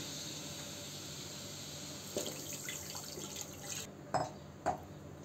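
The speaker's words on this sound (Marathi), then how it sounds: "आता आपण त्याच्यामध्ये दूध घालून घेऊ।" Milk poured into a kadhai that already holds a little water, a continuous liquid pouring wash with a few brief splashes and clinks near the end.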